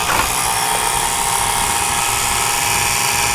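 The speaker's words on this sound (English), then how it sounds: "I'm going to go ahead and turn on the Dremel tool" A Dremel rotary tool whines steadily at its lowest speed, a continuous high-pitched motor hum with a buzzing undertone, close and loud, used while replacing a coupler on a ScaleTrains Rivet Counter SD40-2 model locomotive.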